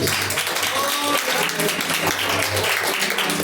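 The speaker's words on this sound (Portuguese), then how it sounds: "Palmas para o nosso Deus." A church congregation at a live worship service applauding, a steady wash of clapping heard under a preacher's voice throughout.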